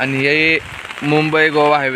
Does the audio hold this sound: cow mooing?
no